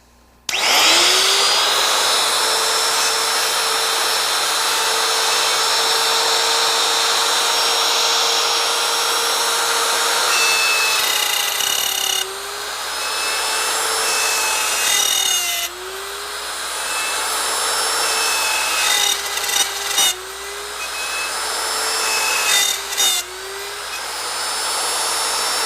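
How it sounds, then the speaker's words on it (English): Wood router cutting dovetails, a loud steady high-pitched whine spinning up and running continuously, with slight pitch dips as the bit bites into the wood. "I'll position my router so the bit is clear of the workpiece, and then I'll turn it on."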